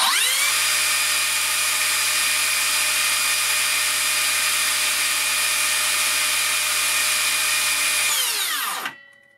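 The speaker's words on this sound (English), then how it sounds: "And now the RPMs on the saw." A Makita 40V battery-powered saw runs at full speed with a steady, loud high-pitched whine, holding constant for about eight seconds before winding down and stopping.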